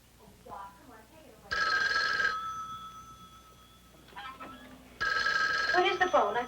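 Old-fashioned telephone bell ringing indoors, two loud clattering rings separated by a pause, with faint speech in between.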